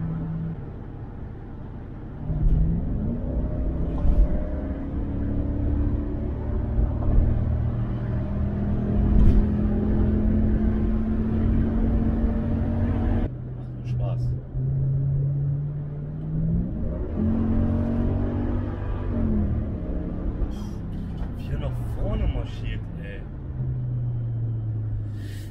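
Mercedes-AMG running on LPG, driven gently on the road, gives a low, steady engine rumble and soft rising hum from inside the cabin as someone talks over it.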